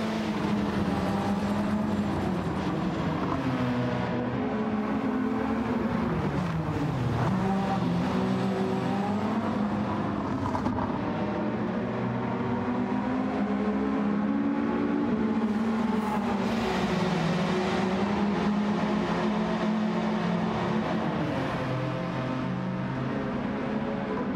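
Ferrari F40 engine in a racing video game, a steady loud drone that climbs and falls with shifting revs for the whole stretch, no voice over it.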